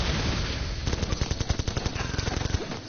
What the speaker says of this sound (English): So my machine gunners will take care of those small troops.